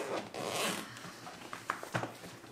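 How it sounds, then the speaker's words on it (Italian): The zipper on a PGYTech OneMo camera backpack is pulled open close up, a long rasping zip followed by a few shorter tugs and clicks of the slider. "devo andare a cercare le zip, che stanno sotto in questo caso"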